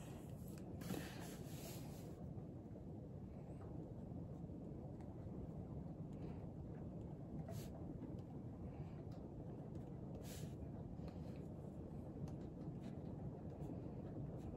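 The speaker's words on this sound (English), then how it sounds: "I hope you can hear the rain." Soft, steady rain patters continuously as a low, even wash with a few faint brighter ticks, heard alone at a calm, close distance.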